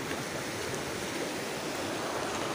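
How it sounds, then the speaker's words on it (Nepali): A river stream at Gaung Khola rushing steadily over rocks, a close, constant broadband flow with no voices. "खोलामा आइसकेका छौँ हामी अहिले"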